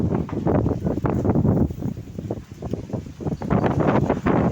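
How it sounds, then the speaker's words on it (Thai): Strong, swirling wind ahead of a rainstorm roars and buffets the microphone, loud and continuous, with faint rustling underneath. "เอาลมมาก่อนครับ ลมโคตรแรงครับ"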